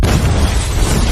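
A car blows up in a sudden, massive explosion, a loud broadband roar with heavy low rumble filling the whole moment without letup.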